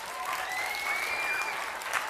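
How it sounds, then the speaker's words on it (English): Audience at a family science night applauding a young volunteer, a moderate, even spread of clapping from a room of people, somewhat distant, with faint whistling tones above. "Round of applause."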